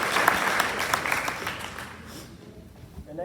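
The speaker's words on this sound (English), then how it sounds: "Another round of applause for both of them." A room at a board of education meeting breaks into applause, a burst of many hands clapping that fades out over a few seconds.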